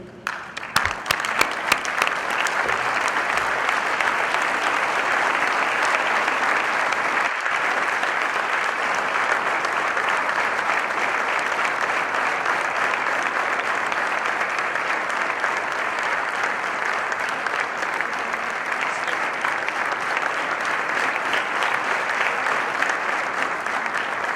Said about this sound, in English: give a big round of applause to our President